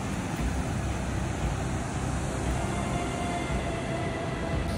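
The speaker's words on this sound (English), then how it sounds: "The Wass Waterfall. Oh my god, it's so beautiful!" Wass Waterfall on Vancouver Island pours in a steady, dense rushing roar that holds constant and close throughout, with no voices.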